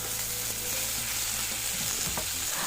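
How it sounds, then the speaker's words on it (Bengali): Chopped tomatoes go into spices frying in a pan for Bengali tomato masoor dal, making a loud, continuous crackling sizzle with a few stirring scrapes, close up and without any voices. "এবার মশলা কিছুক্ষণ সময় একটু ভেজে নিয়ে এর মধ্যে দিয়ে দেব কেটে রাখা টমেটোগুলো"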